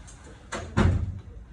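A door thuds shut nearby in a room, one short bump followed by a heavier closing impact and a brief low rumble.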